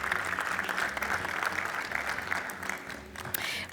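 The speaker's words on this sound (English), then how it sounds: "A round of applause, please, as they make their way to stage." Sustained applause from a conference audience at a tourism forum on Africa as speakers walk to the stage, a dense, even wash of many hands clapping at moderate volume with no clear talk over it.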